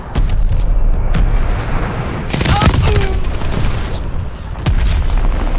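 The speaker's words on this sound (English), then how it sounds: "Glide bomb on the way." A glide bomb explodes in Call of Duty: Vanguard, with heavy booming blasts over a constant roar of battle, including several loud bursts close together midway and another burst near the end.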